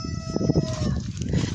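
Chickens clucking and murmuring close by in a coop, a continuous busy chatter of several birds with faint background noise.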